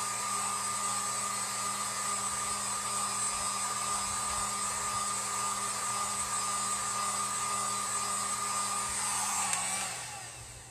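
A heat gun blows steadily while drying a metal and ceramic plate: a loud, continuous airy whoosh with a constant motor hum that runs without a break and fades out only in the final second.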